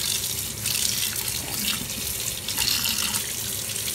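Tap water runs steadily into a sink while sliced pieces of fresh lamb leg are washed, a moderately quiet continuous splashing stream with no voices.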